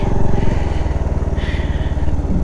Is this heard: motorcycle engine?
yes